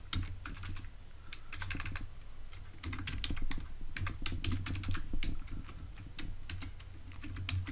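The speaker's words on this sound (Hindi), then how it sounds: "यहाँ पे मैं कोड लिख देता हूँ, सिंपल HTML" Steady typing of HTML markup on a computer keyboard, dense clattering keystrokes continuing throughout at close range with no speech.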